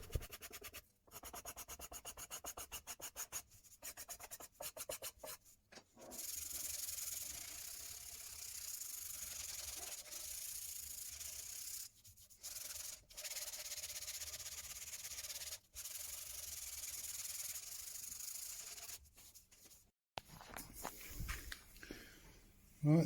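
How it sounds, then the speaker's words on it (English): Sandpaper rubbing over the carved belly contour of a Telecaster guitar body, shaping the wood in long, steady close-up strokes with brief pauses between passes; a broad, hissy scrape that runs for most of the span. "I've sanded it to get shape, not sanded it for finishing"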